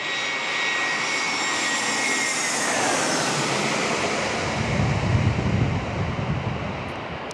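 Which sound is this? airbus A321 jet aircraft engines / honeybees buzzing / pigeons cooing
airbus A321 jet aircraft engines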